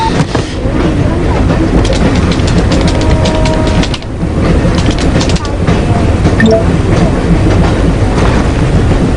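A train rumbles steadily along the rails with a continuous rattling clatter, loud and close, with voices faintly audible beneath it.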